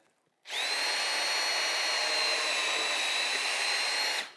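A power drill runs a Vix self-centering bit to bore pilot holes for hinge screws on a drawer or cabinet build, one steady close whine lasting about four seconds with no talk.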